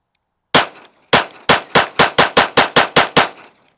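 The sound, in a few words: Monsoon Tactical Bodyguard 2.0 pistol shooting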